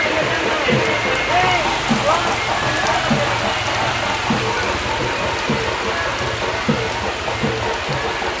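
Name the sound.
heavy rain with wind at a village fair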